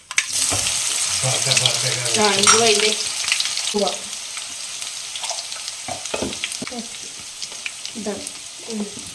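Cumin seeds crackle and sizzle in hot oil for tempering, a close frying hiss with scattered pops and a few sharp kitchen clatters.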